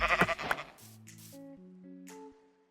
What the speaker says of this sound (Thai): มีแกะขาวอีกปะ